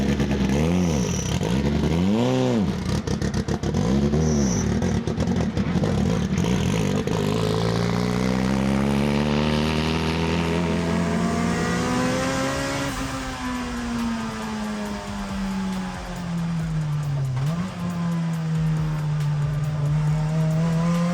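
A Honda-engined Ferrari laps a race track at speed, its engine loud and close, revving hard with rising and falling pitch as it climbs through gears, brakes and accelerates out of corners, with a brief dip before pulling again.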